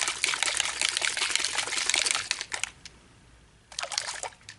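A spray bottle hisses in a long continuous burst, goes quiet for a moment, then sprays again in a shorter burst.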